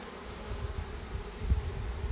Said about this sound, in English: The way the bees are fanning and they seem stressed